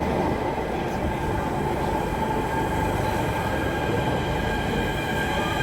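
A Delhi Metro train rumbles steadily along the rails, a loud continuous roar with faint wheel squeal and no voices.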